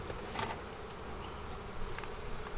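Honey bees buzz steadily around an opened hive being supered, a soft continuous drone with a few passing bees briefly louder and closer.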